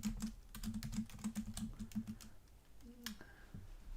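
Rapid typing on a computer keyboard during a math homework session, a quick run of close, crisp key clicks for most of the stretch, then a short pause and a few final taps.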